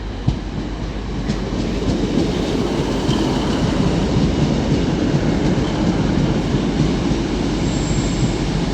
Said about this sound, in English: as this Northern Class 150 arrives in now